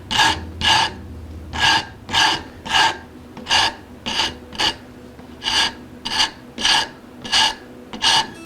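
A hand rasp files the end grain of wood on a 1964 Gibson ES 335 guitar under construction, about a dozen close, scratchy strokes in a steady back-and-forth rhythm with short pauses between them.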